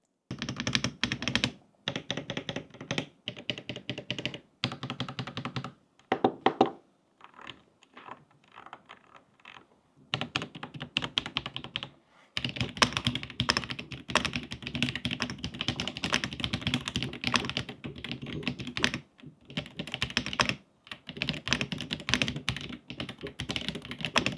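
Typing on a Royal Kludge mechanical keyboard produces a dense, continuous clatter of clicky keystrokes in bursts with brief pauses, close and fairly quiet, with no talking.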